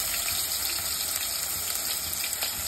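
Crushed garlic and chopped onion frying in oil for a gourd curry, a dense, steady crackling sizzle heard up close with no pauses.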